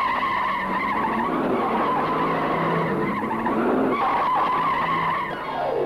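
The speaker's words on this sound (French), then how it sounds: "Des courses-poursuites en voiture." Tires squeal and skid continuously through a car chase scene in a Santo film, a loud sustained screech with engine noise underneath, swelling and shifting pitch as the cars slide.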